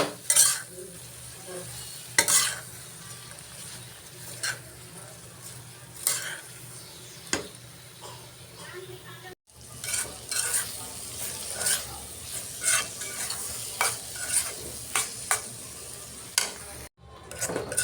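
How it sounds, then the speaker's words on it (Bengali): Spoon stirring dried fish with onion, green chilli, salt and turmeric in a pan, scraping taps and clinks repeating over a low steady sizzle, close and fairly quiet, with no talking. "লবণ হলুদ এখন একটু নেড়ে চেড়ে নিই"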